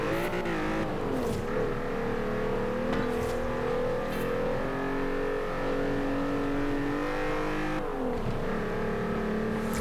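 A Volkswagen Golf R32 engine in the Forza Horizon 4 racing game drones steadily and loudly, rising and falling through gear changes and revs for nearly ten seconds with no voices.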